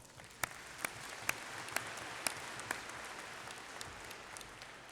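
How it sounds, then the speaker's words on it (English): Applause for graduates at a university graduation ceremony, a steady wash of clapping from a large seated audience across the whole stretch, with a few sharper individual claps standing out early on. "Let's give them a round of applause."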